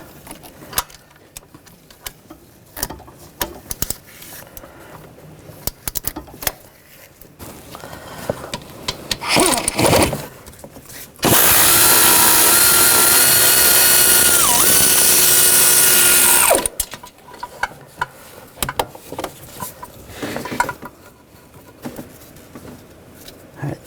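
Power tool on an extension spinning a turbocharger nut loose over the transmission of a 2009-2017 Volkswagen Tiguan, a sustained loud whirring burst of about five seconds after scattered clinks and handling noises.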